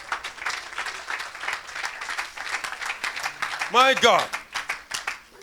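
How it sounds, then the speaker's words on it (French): A church congregation claps along at a lively worship service, applause running steadily under a preacher's voice, with a brief high vocal shout near the end. "put your hands together for the Lord"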